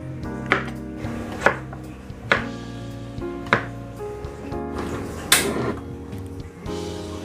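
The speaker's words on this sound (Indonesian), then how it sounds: "Dan ini saya potong bentuk dadu seperti ini." Knife dicing fish on a cutting board for a spiced fish soup, giving about six sharp, close chops spaced roughly a second apart over a quiet background.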